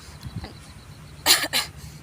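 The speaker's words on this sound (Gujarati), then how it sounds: "અમે સોપારી ખાધી છે એના કારણથી મને ખાંસી આવે છે" Two short, sharp coughs in quick succession from a person who has been chewing betel nut (supari), fairly close and loud against a quiet background.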